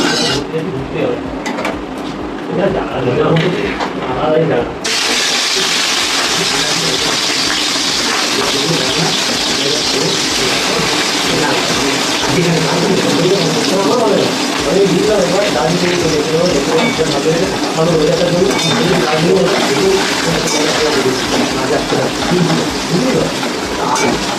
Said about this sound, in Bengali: তেলে এবার ডিমগুলো ভেজে নেবো।